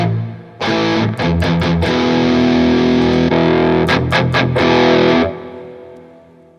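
A heavily distorted electric guitar chord through a Mesa Mark amp model on a Fractal Audio FM9 Turbo rings out loud and sustained, with a few quick picked stabs near the start and end before it fades.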